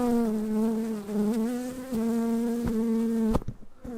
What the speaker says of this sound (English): And there's an angry bee in the microphone.